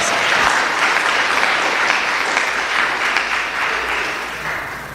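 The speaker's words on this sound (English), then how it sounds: "Give him a round of applause, please." A forum audience gives a loud, dense round of applause, sustained throughout and tapering slightly toward the end, from a crowd filling the room.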